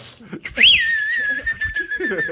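A person whistles a single rising then sustained note, shrill and clear, with soft murmuring voices around it.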